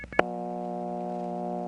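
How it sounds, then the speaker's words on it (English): Newer-type Bell System rural CDO dial tone from a #355 step-by-step office on a long cable pair near Edgefield, SC, 1977: brief clicks, then a steady, even hum of tones held throughout, fairly quiet and alone. "this is actually the newer type of Bell System rural CDO dial tone"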